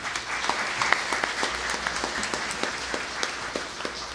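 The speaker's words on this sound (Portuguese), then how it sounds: "Professor Chico Reis, eu peço uma grande salva de palmas." Audience applause for Professor Francisco Reis, a poet honoured in a municipal session; a steady patter of clapping from a moderate crowd with distinct individual claps standing out, close and continuous.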